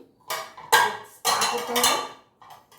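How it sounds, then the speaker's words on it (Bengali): Dishes and pots being washed in a sink, with a few close, sharp clatters of metal pans and utensils knocking together in quick bursts. "সিনে কতগুলো বাসন আছে চলো এগুলো আগে সব ধুয়ে নিই"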